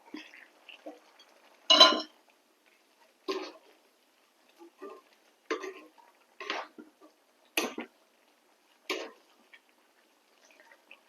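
A cauliflower masala curry is stirred in a pan, giving scattered metallic clinks and scrapes of a utensil against the pan, with long quiet gaps between them.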